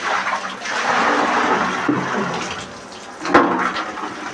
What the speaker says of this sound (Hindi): तो हमारे यहाँ तो पानी आ रहा है, देखिए अभी भी आया है।